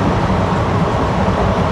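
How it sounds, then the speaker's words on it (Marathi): The 22137 Prerna Express between Nagpur and Akola rolls along with a loud, continuous rumble and rattle of wheels on rails. The noise is steady and close throughout, with no clear separate clacks. "या आवाजामुळे ना असं फील होते की आपण ट्रेन जर्नी करतो आहे"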